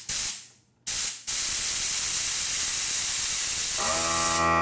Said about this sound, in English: After a certain amount of air is lost, the compressor will automatically build more pressure.